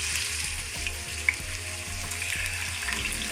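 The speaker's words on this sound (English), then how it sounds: "Add 3 to 4 spoons of oil. Slide your potatoes into the pan." Sliced potatoes frying in 3 to 4 spoons of oil in a pan give a steady, close sizzle and crackle with one sharp pop partway through.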